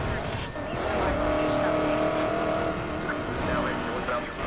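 Car driving in Need for Speed Payback, with a Ford Mustang among the abandoned cars: a steady, loud engine drone with tire squeal and skidding runs throughout, mixed with game sound.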